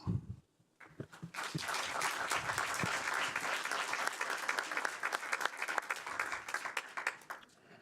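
A city council meeting crowd breaks into sustained applause after a brief moment, clapping steadily for several seconds before tapering off.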